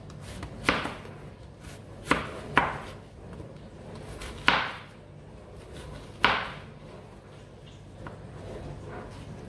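An onion chopped coarsely with a knife on a board, six sharp, fairly quiet chops spaced unevenly over about nine seconds in a calm room.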